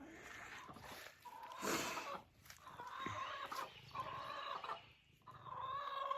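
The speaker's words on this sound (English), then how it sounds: "I get followed even by the chickens." Several chickens cluck and squawk nearby in uneven bursts, with brief quiet gaps between calls.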